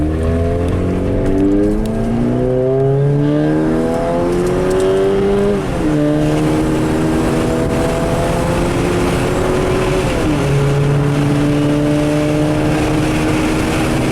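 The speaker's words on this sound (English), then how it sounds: "We're going to do a sound check real quick of the snorkel" A vehicle engine fitted with an Avid snorkel revving and accelerating through rising gear shifts on a windy day, loud and continuous with heavy wind noise, no talking.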